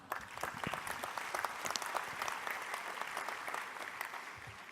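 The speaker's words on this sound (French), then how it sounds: "Merci de les applaudir également." An audience claps steadily, a dense patter of many hands that stays even and fairly distant from start to finish.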